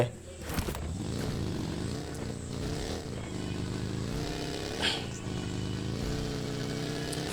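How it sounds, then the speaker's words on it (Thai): Buggy in a Thai-narrated battle royale video game, engine revving and whining up and down as it is driven fast, close and continuous. "โหขี่บักกี้ แม่ ซิ่งจังเลยครับ"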